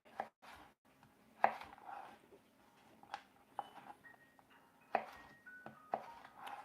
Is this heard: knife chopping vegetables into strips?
yes